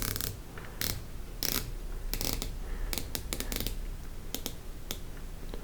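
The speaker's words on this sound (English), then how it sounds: "Unidirectional bezel, very tight tolerance. I can see, I can feel, and I can hear it. Very definite positive ratcheting." A bronze aeronautical chronograph's unidirectional bezel is turned, giving a run of crisp, close ratcheting clicks. The clicks come in quick bursts with short pauses, over a steady background hiss.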